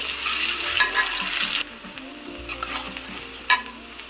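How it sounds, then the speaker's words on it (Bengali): Chopped onions stirred in hot oil in a pan, a busy crackling sizzle with scraping stirs, loud at first and then settling into a steadier, quieter fry with occasional sharp spatters. "পেঁয়াজ কুচিগুলো দিয়ে একটু নেড়ে চেড়ে নেব"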